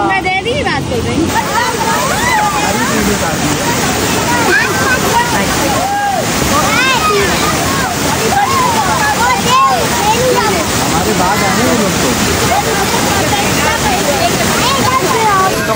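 A waterfall at Al Jannat in Kashmir roars loud and close, with dense rushing water masking everything else throughout, while faint voices of people talking nearby come through underneath.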